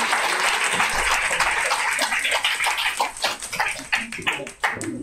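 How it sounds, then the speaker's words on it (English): Audience applause for Huizache poets at a Southern California literary showcase, a sustained dense clapping wash that thins toward the end into scattered individual claps. "Round of applause for Huizache poets from Huizache 10"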